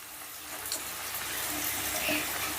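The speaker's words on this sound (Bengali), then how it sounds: "এবারে গ্যাসের আঁচটা বাড়িয়ে দিয়ে নুন হলুদ দিয়ে আলুগুলোকে বেশ লাল লাল করে ভেজে নেব" Potatoes frying in oil with salt and turmeric over a raised gas flame give off a steady, fairly loud sizzling hiss that runs unbroken from start to finish.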